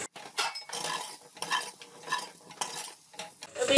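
Potatoes tossed with salt, garam masala and red chilli powder in a pan, giving repeated scraping stirs and light clinks of a utensil over a faint sizzle, close and uneven in rhythm.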